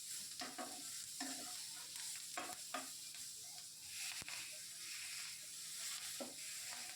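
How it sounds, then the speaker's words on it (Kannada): Something frying and sizzling in a pan on a Kannada home stove, likely capsicum (simla mirchi) for a chilli dish. A steady close hiss runs throughout, with occasional stirring scrapes and clinks and no talking. "ಕೆಂಪಾಗುತ್ತಾನ ಹುರಿದ್ರಿ ಅದನ್ನು."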